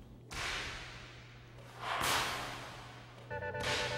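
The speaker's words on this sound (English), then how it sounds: "But what exactly accounts for the sound of a whip cracking?" A whip cracks three times, each a sharp, loud snap spaced a second or more apart, over a low steady hum.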